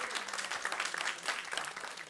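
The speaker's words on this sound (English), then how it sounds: "Give them a round of applause." Audience applause fills a conference room after a farm-themed introduction, dense steady clapping from many hands at moderate loudness with no talk over it.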